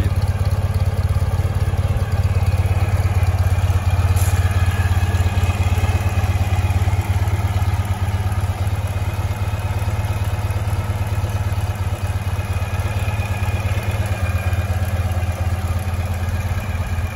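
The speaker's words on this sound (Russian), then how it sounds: "Очень мягкий звук работы двигателя." A new Ural police motorcycle engine idles steadily and smoothly, a continuous low rumble with light mechanical clatter, close by and without talk.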